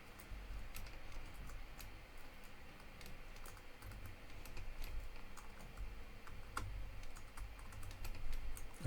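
Someone types on a computer keyboard with a worn, loose key, producing a brisk, irregular patter of close clicks and taps over a soft low room hum.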